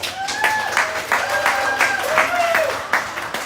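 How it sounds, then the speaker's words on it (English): Applause from the audience at a high school coach's show for the Buckeye Panthers, a steady patter of clapping with a tonal background running underneath. "Give them a round of applause, ladies and gentlemen"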